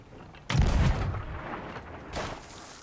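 Ship cannons in the pirate game Sea of Thieves fire cannonballs, a loud booming blast with a low rumbling tail, followed by a second, softer boom about a second and a half later.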